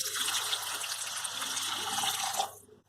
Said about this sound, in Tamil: இதில் கொஞ்சமாக தண்ணி சேர்த்துக்கலாம்